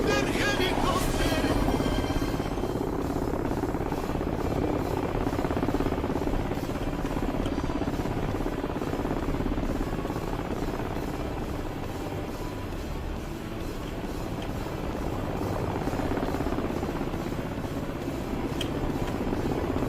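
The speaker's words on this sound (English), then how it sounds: "Okay, it sounds like it's right here, but I don't see it anywhere." Video game helicopter close by but unseen, a steady buzzing rotor drone that runs continuously at moderate loudness, swelling slightly at the start and again later.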